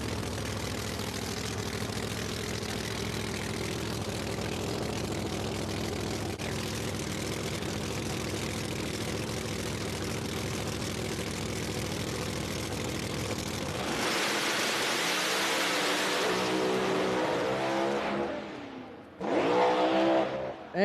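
No Prep Kings drag race cars at National Trail Raceway, with a steady loud engine drone that drops away near the end into a short roaring burst.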